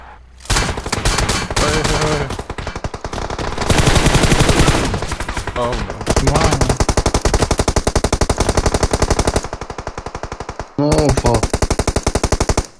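Loud, close automatic gunfire in PUBG Mobile squad combat: rapid rattling bursts of shots, some long and sustained and some short, broken by brief gaps, with voices talking now and then.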